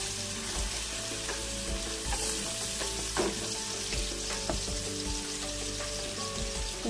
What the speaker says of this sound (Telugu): కొంచెం రంగు మారే వరకు వేయించుకోవాలి